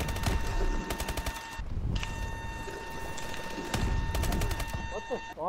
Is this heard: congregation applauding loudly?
no